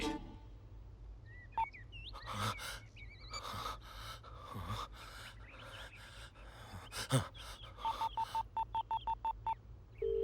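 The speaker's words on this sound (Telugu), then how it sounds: "రాజారాం, ఫోన్ ఎత్తు రాజారాం." A quick run of evenly spaced dialing tones, about a dozen short beeps, follows scattered clicks and breathy noises, ending in a steady tone.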